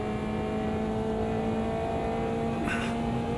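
A race car drifting through a final corner in the racing sim AMS2 gives off a steady, loud engine drone with sustained tonal whine and a brief rise in high hiss near the end, with no voices.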